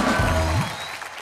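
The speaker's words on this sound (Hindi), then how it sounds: "ओ एक बार जोरदार तालियां साजिद और फराह के" A studio audience at a comedy show bursts into loud applause, a dense burst of clapping that fades over about a second.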